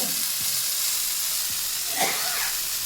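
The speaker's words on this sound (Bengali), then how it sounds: "এটা আর একটুখানি ভেজে নেই" Crab frying in a pan gives a loud, dense, steady sizzle like a broad hiss, with a couple of faint stirring scrapes underneath, close and continuous with no talk.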